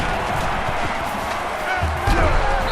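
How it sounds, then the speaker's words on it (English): Stadium crowd roaring in the NCAA Football 2014 video game, a loud, constant wash of noise with bursts and thumps, swelling louder near the end. "It's arguably the loudest crowd in the nation, and they are turning it up a notch."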